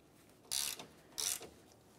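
A ratchet works loose the grille mounting hardware on a 2006-2011 Honda Civic, giving two short bursts of quick clicking close by with quiet between them.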